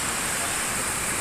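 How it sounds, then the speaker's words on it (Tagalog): Heavy rain pours down outdoors during a storm, a dense, constant hiss at close range with no pauses. "Pala nakapundo ang malakas na ulan."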